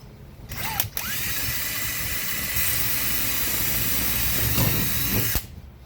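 A power drill whines steadily at close range for several seconds, drilling through the side of a Wenonah Prism canoe hull, briefly changing pitch at the start and near the end before stopping.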